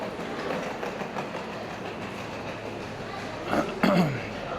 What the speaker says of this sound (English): So this is the underground of the train station here.